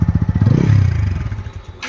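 A new motorcycle's engine revs up close, its low throbbing pulses rising into a brief, strong swell before settling back, with no talk over it.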